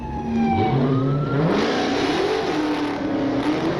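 A black Dodge Hellcat with a 700-horsepower engine revs hard and accelerates loudly and up close, its pitch climbing and falling through the gears over a steady roar, with a siren-like tone mixed in.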